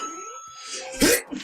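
A single sharp, close sneeze bursting out after a quiet moment of soft breathing, followed by a brief exhale.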